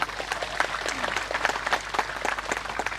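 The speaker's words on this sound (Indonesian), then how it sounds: "Tepuk tangan untuk Pak Yai." An audience at a Maulid Nabi religious gathering claps in dense, continuous applause throughout, fairly loud and close, with a steady low hum beneath.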